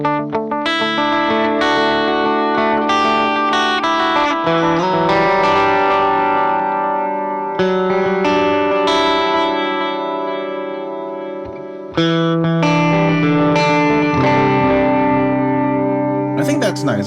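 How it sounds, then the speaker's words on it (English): Electric guitar played through an M-Vave Blackbox with a dotted-eighth delay, sustained chords and notes ringing out with repeating echoes trailing behind each strum, steady and loud throughout. "I'm going to turn on the delay first. This is going to be a dotted 8 setting."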